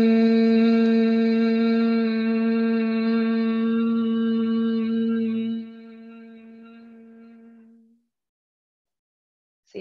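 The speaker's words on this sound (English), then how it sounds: "The bumblebee breath sounds like this." A sustained, steady hum of a bumblebee breath exhale, demonstrated during a prenatal yoga session; one long voiced tone with rich overtones that holds for several seconds, then fades out into silence.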